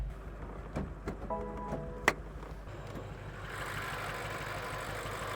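Failed BMW M5 engine idling roughly, a steady low mechanical drone with uneven pulses, a sharp knock near the middle and a faint warning chime, continuous throughout with no talk.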